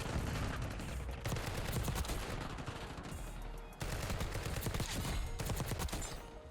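Rapid automatic gunfire from the Cypher 091 rifle in Black Ops 6 rattles in dense, continuous bursts with a brief break midway, loud and crisp game audio without talk.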